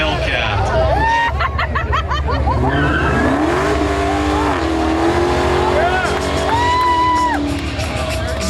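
A 2016 Dodge Challenger Hellcat does a burnout at a burnout contest, its engine revving and falling in repeated surges while the tires squeal, under loud crowd noise and nearby voices.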